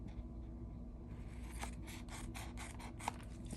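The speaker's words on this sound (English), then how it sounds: "Then we're going to cut off the extra overhang." Scissors trim the extra paper overhang from a handmade stamped card. A few quiet rasping snips follow one another after a short pause, with no voices.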